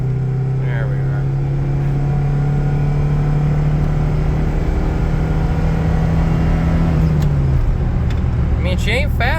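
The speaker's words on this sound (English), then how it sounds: "she ain't fast, but sounds pretty good for a Honda Civic" A Honda Civic wagon engine fitted with a Weber carburetor, droning steadily while driving and then shifting down in pitch, loud and close with road and cabin noise throughout.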